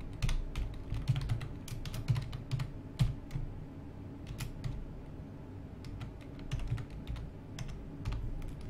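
Steady typing on a computer keyboard, close and fairly quiet, with quick irregular key clicks in short bursts and brief pauses throughout.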